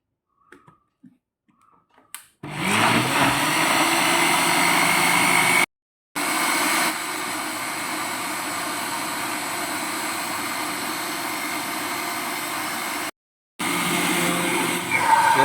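A blender whirs loudly while mixing a carrot cocktail shake, a steady motor roar kicking in after a few faint clicks, cutting out briefly twice and starting again.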